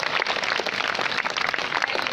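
A school prize ceremony crowd at an Eid Milad un Nabi event keeps up a brisk, continuous round of applause, the many hands blending into a close, even clatter.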